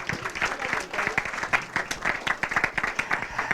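Applause from an audience at a golden jubilee celebration, a dense continuous round of clapping at moderate volume, steady throughout with no other sounds on top.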